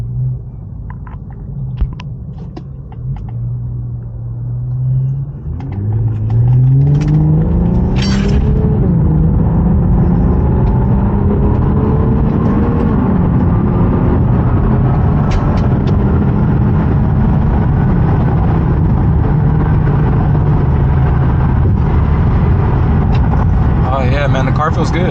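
An Infiniti Q50 engine idles low and smooth, then rumbles up steadily as the car pulls away and keeps cruising, a close and even drone. A person talks over it at times.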